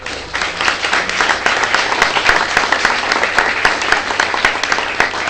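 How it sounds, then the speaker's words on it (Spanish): Strong applause from a conference audience, steady dense clapping that stays loud and continuous throughout without any voices. "Un fuerte aplauso."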